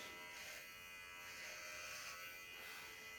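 An electric shaver buzzes continuously while cutting a beard, a faint, steady close-up drone that never pauses.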